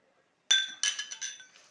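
Vermicelli dropped into an oiled steel bowl, making a short series of bright metallic clinks and rattles, one sharp hit followed by several quicker, fading taps, close and clear against silence.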